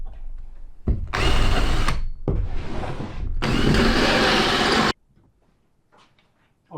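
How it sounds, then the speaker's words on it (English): A power drill with a hole saw bores ventilation holes in boards for a Vauxhall Vivaro camper van conversion, in two loud close bursts with a brief pause between them, then quiet handling. "to get them out, I'm just going to use this hole saw"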